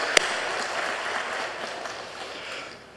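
Steady clapping from a church congregation during a Sunday service, broad and sustained, with a single sharp snap near the start, fading slightly toward the end.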